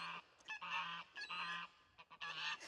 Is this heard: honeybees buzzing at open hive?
no